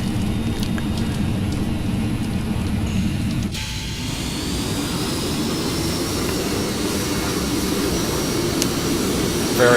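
A Cessna Citation II (S550) jet in the Prepar3D flight simulator deploys its thrust reversers after landing, giving a loud, steady low engine roar that swells after a brief dip and continues without a break.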